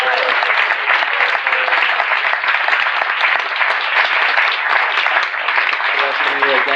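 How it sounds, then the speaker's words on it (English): An audience in San Diego gives a warm round of applause for Radhanath Maharaj, a thick steady wash of clapping that holds evenly, with a voice starting to speak over it toward the end. "Just a nice round of applause for Radhanath Maharaj."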